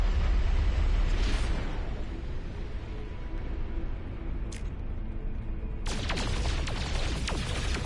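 A photon cannon fires in the video game No Man's Sky, with short zapping bursts early on, then a rapid run of repeated shots near the end over a low background rumble.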